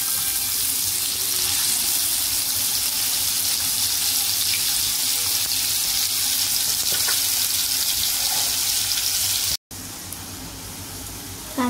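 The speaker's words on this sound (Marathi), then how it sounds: "तेल चांगलं तापून झालं की बारीक चिरलेला कांदा फ्राय करूया।" Finely chopped onion fries in two spoonfuls of hot oil in a pan for an egg dish, giving a steady, dense hiss and sizzle that runs close and continuous, dropping briefly near the end before resuming.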